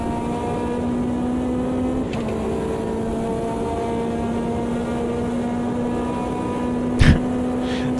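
McLaren race car in Automobilista 2 holding a steady, sustained engine drone down a straight, with a gear shift partway through and a brief sharp knock near the end.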